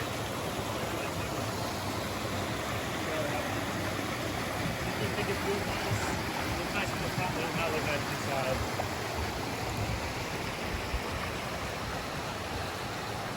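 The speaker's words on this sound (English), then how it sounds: "Not a fall, but a babbling brook." A babbling brook flows steadily along a hiking trail in the Blue Ridge, a soft, continuous wash of water with no voices.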